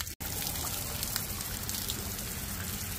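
Warm mineral hot spring water pours steadily from a built-up vent, a continuous close splashing rush broken only by a brief dropout near the start.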